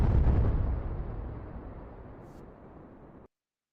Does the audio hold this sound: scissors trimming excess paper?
no